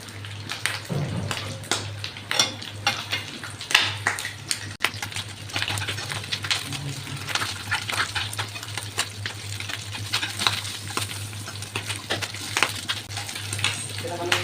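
A ladle scraping and clinking in a pot of pea and meat soup, with repeated soft metallic taps and liquid sloshing over a low steady hum, close by and fairly quiet.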